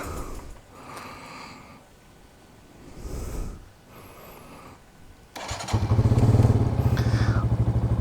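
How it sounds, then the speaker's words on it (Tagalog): A manual-transmission motorcycle engine sputters through a few quiet cranks, then catches and settles into a loud, steady idle with a low throbbing rumble. "So bukas, buksan natin yung makina."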